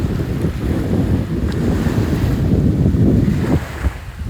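Strong wind buffets the microphone while waves wash steadily at a big beach lagoon, making a loud, continuous roar with no voices.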